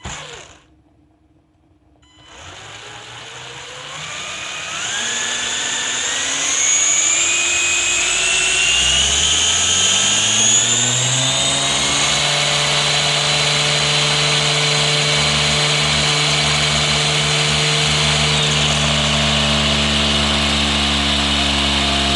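The gyro on an Anderson M5 radio control motocross bike spins up with a rising, steady mechanical whine and hum after a short quiet start, loud and close, holding a constant pitch once at speed.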